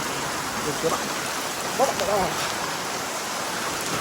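Heavy rain pours down in a steady, broadband hiss, with someone speaking briefly and faintly under the downpour.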